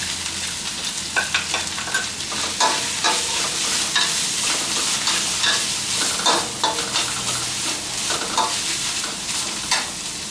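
Thai curry paste with fingerroot stir-fried in a pan for a catfish curry: a loud, continuous sizzle with rhythmic scraping of a utensil stirring close up, no voices.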